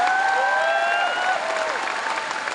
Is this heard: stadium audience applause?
yes